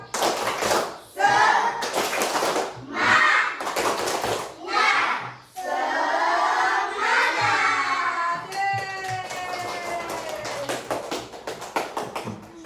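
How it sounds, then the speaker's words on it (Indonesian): Schoolchildren in a classroom perform a rhythmic group clapping chant, tepuk semangat, with bursts of patterned claps alternating with chanted voices, then a sustained shout and a sung line closing it out. "ayo kita tepuk semangat biar tambah semangat"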